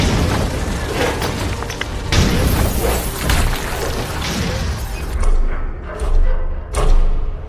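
Film scene with rumbling, a spotlight bursting and stage equipment crashing down: a series of loud booms and thuds with shattering impacts, swelling and breaking in several heavy waves.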